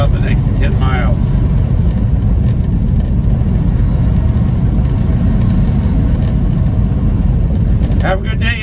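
A truck rolls along a torn-up gravel road in Montana, a constant loud low rumble of engine and tires filling the cabin, with brief voice-like chirps near the start and end.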